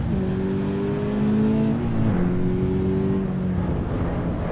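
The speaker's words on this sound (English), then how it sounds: "I think I'm revving the car out too far." A race car engine in the video game Assetto Corsa EVO drones steadily, its pitch shifting as it revs and changes gear, with a continuous mechanical hum throughout.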